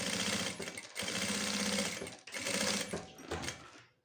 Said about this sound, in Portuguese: entra na máquina e faz a costura do lado de cá